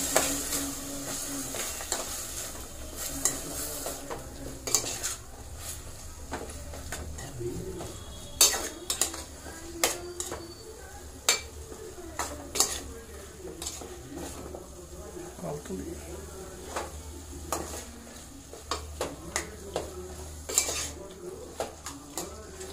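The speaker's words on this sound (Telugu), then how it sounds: "కారం ఉప్పు వేసి కూడా ఒకసారి కలుపుతున్నాను." A spoon stirs chicken curry with chili powder and salt in a metal pot, giving repeated scraping clinks and knocks at an uneven pace, close up, with a soft sizzle underneath.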